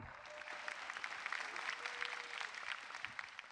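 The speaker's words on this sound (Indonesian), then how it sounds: "tepuk tangan untuk mereka berdua." Steady, moderately distant applause from an Indonesian stand-up comedy show audience, a dense patter of clapping lasting a few seconds.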